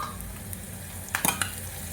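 Cumin seeds hitting hot oil in a pan with a quiet background sizzle, followed by a few sharp clinks and scrapes of a utensil close by, with no talking.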